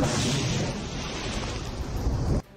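A Russian mine-clearing rocket charge detonates at the Azovstal steel plant, a loud, sustained roaring blast that fills the clip and then cuts off abruptly.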